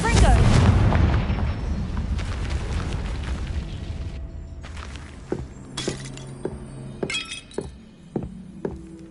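A Confringo blasting spell explodes in the Hogwarts Legacy video game, a loud booming blast with shattering debris that fades out, followed by a series of sharp clicking impacts as a voice speaks.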